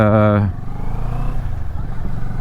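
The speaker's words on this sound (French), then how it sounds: "La sonorité de l'échappement est super bien travaillée aussi parce que on a vraiment une sonorité qui est hyper agréable, mais qui n'est pas trop forte" Moto Morini Seiemmezzo motorcycle exhaust, with a strong, tonal engine note for the first half second, then a lower, rougher rumble that continues underneath as someone talks.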